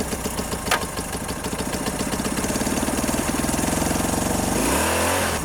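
Old two-cylinder Honda motorcycle engine, 46 years old with long fuel lines, running loud and close with a rapid, uneven idling chug that rises slightly, then shifts near the end.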